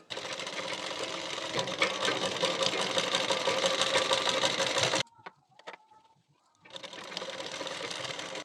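An electric sewing machine stitches a boat-neck blouse in a close, steady whirring run of about five seconds, stops for a short quiet gap with faint handling sounds, then starts whirring again.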